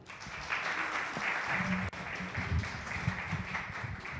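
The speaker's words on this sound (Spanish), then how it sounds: "Un aplauso." Steady audience applause at a conference panel session, a broad continuous wash of clapping from a seated crowd, moderately loud and sustained with no talk over it.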